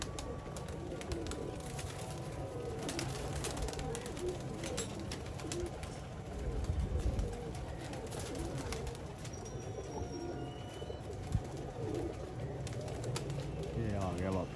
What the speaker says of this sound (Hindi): कबूतर नीचे आ रहा है